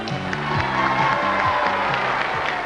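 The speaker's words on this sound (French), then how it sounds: "vous applaudissez le distingué, c'est vrai, Christian Morin" A French TV game show studio audience from 1990 claps and cheers steadily at full volume. A repeating theme tune plays underneath the applause.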